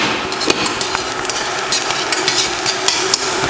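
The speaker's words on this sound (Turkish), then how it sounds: "şimdi soğanlarımızın üzerine biberlerimizi ekliyoruz" Peppers being stirred into onions and meat frying in a pan for Turkish Ankara tava, giving a steady close sizzle with repeated scraping and clinking strokes of the spoon throughout.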